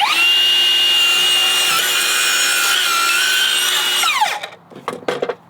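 A Metabo HPT 7-1/4" dual bevel miter saw slices through wood on a 45-degree bevel, a loud steady whining cut lasting about four seconds before the blade spins down, followed by a few light knocks and clatter.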